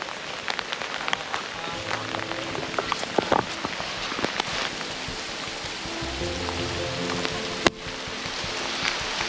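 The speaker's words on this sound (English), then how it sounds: "We're just getting some rain." Steady rainfall pattering on surfaces at a homestead after a hurricane, with scattered sharp drips and taps standing out nearby and a low background hum.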